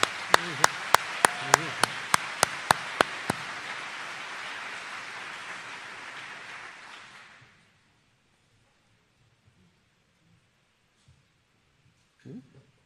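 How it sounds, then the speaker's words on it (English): Applause from a crowd at a school graduation ceremony, loud and steady with a few sharp claps standing out at the start, then fading out into near silence. "could I please ask for another round of applause"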